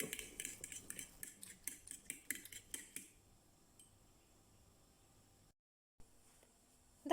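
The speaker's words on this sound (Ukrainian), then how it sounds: "Сюди ж додаємо кріп і перемішуємо все" A utensil stirs dill into a cauliflower mixture briskly in a bowl, clinking and scraping in quick strokes for a few seconds before it falls quiet.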